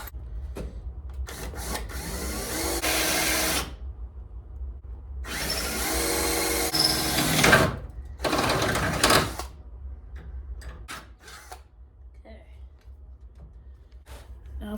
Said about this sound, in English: Now comes the fun part. I'm drilling through it.